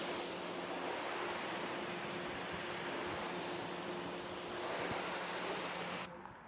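Steady rushing spray from a water hose rinsing a ceramic-coated car runs continuously and loud, a dense hiss with no voices, cutting off abruptly near the end.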